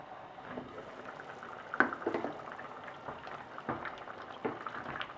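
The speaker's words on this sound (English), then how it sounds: "Cover your pan and continue cooking the soup for 10 to 15 minutes." Orzo meat soup simmering in a covered pan, a faint low bubbling with soft irregular pops and small clicks, no voices.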